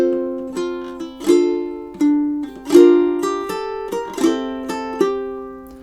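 A ukulele plays measures 5 and 6 of a song, solo, with a run of about nine clear plucked chords and notes, each ringing briefly before the next.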